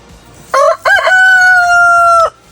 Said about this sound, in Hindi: मुर्गियाँ चाहिए कुछ मुझे आज, बहुत सारी हैं तुम्हारे पास?